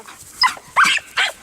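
Three sharp barks from a border collie working a herd, spaced evenly about 0.4 seconds apart, fairly close and loud with no talk over them.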